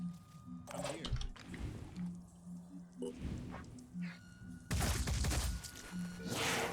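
Gunfire in the tactical video game Phoenix Point: several separate crashing bursts of shots, with a louder, longer volley near the end, over a low game background and with no speech.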